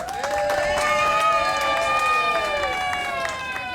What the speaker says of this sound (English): How about a big round of applause, ladies and gentlemen?